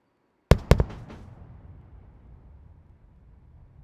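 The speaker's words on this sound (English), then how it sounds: "And a nice sonic boom and touchdown." A SpaceX Falcon 9 booster's sonic boom arrives as two sharp, loud cracks in quick succession, followed by a fading, distant rumble with no voices.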